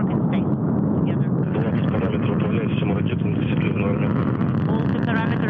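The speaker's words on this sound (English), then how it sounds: "Engine maximum thrust and liftoff." The Soyuz MS-21 rocket engines roar at liftoff, a dense and steady broadband rumble running without a break, with a voice speaking over it.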